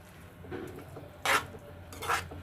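Spoon scraping through eggplant and onion curry in a pan, with a few soft clinks and scrapes, two sharper bursts standing out over a low steady background hum.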